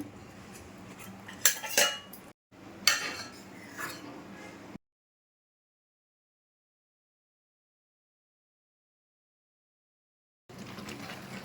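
A metal spoon scrapes and clinks against a pan while curd is stirred into chicken gravy masala, with a few sharp knocks at first, then a long silence before the scraping resumes at the end.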